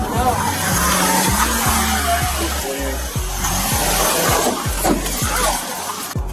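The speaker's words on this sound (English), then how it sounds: "She then started the engine, reversed the vehicle." A car engine revs hard as the vehicle reverses during a police stop, with rising and falling engine tones, tire noise and scraping, and shouting voices over it.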